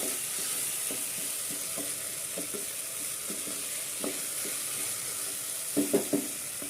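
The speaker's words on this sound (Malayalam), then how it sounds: "പച്ചക്കുരുമുളകാണ് എടുത്തിരിക്കുന്നത് നല്ലപോലെ ഒന്ന് ഇളക്കി കൊടുക്കാം" Green pepper chicken curry stirred in a pan, a soft continuous sizzle under repeated light scraping strokes of a spoon, with a couple of louder knocks toward the end.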